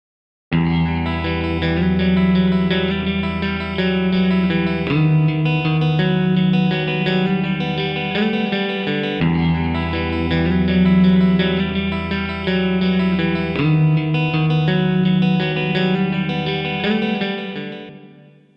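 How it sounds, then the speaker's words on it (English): Distorted guitar chords ring out with a subtle tape delay fed only into room reverb, sustained and steady, with a soft ambient tail as the final chord dies away. "We're only going to hear the tape delay being sent to the room reverb."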